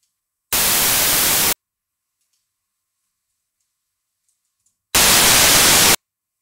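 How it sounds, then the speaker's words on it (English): White noise passed through a custom FIR filter with boosted lows and gradually rolled-off highs plays in two one-second bursts separated by silence, loud and even. "we boosted up the lows, we gradually roll off some of those higher frequencies"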